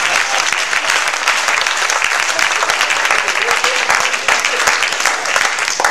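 Sustained, dense applause from a church congregation giving praise to the Lord, loud and steady throughout with no break.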